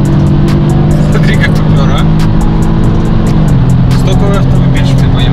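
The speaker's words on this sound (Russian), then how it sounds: "Семейный X3 объезжает Audi S3." A BMW X3 M40i crossover accelerates hard past an Audi S3, its engine note loud and sustained with a steady droning tone that shifts pitch partway through, while occupants talk excitedly over it.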